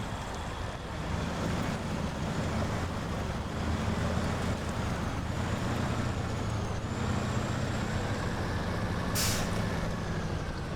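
Truck with trailer driving through water in the SnowRunner video game, a steady loud engine drone mixed with churning, splashing water and a brief hiss near the end.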